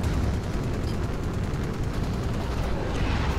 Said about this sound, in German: die Kanonen, die da auf mich schießen